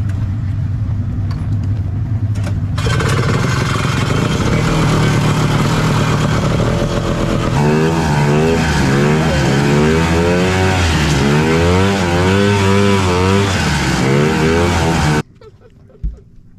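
Engine revving at full throttle off-road in mud, a loud sustained roar that climbs and wavers through repeated pitch swings before cutting off abruptly.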